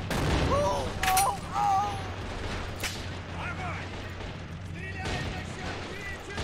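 Mortar rounds firing in a war video game, heavy booms and rumbling gunfire under a constant low battle drone, with someone talking over the action.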